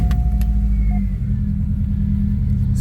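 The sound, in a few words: car engine idling, spitting and sputtering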